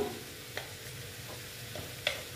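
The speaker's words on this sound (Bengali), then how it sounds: "এটা আমি কষিয়ে নেব" Spiced teasel gourd (kakrol) sautés in a pan with turmeric, salt and chili powder, giving a soft, low sizzle punctuated by a few light clinks and stirs of a spoon.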